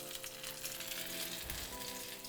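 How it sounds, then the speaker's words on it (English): Shredded beef taquitos sizzling in hot frying oil, a steady bright crackle and hiss that holds continuously throughout, close and even, with no talking. "We're going to place it in our oil."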